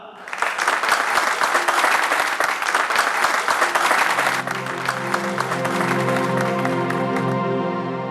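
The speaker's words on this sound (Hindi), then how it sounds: "तो एक बार जोरदार तालियां हो जाएं हमारे इस प्ले के लिए" An audience applauds loudly for a stage play, a dense burst of clapping that fades after about four seconds as sustained musical tones take over.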